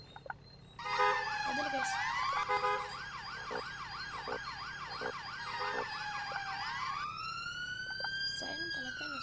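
A police siren in the Roblox video game wails loudly in fast rising and falling sweeps, then settles into a slower, steadier tone, while someone talks briefly over it.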